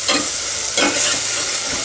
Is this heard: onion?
yes